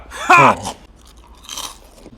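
Crispy fried snakeskin gourami fish chewed up close, a loud crunchy bite with a short voiced murmur, then a softer second round of crackly chewing.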